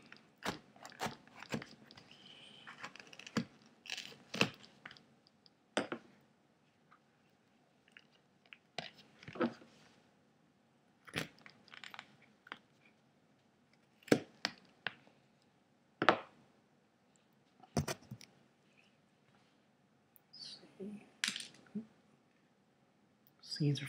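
A knife slices open a ripe Albanian Red Hot pepper pod, giving short crisp crunching cuts in irregular bursts, close and fairly quiet, with soft sounds from handling the pod in between.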